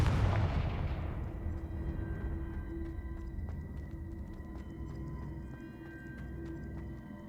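A Confringo explosive spell from Hogwarts Legacy bursts with a loud boom up front, then a long rumbling, crackling tail decays over several seconds with no talking.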